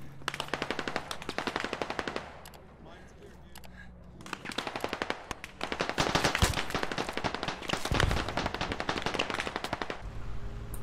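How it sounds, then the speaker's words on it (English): Rapid automatic gunfire in the video game Squad, with dense bursts of machine-gun shots, some near and loud and some more distant, rattling almost continuously, with voices talking underneath. "He's shooting at us."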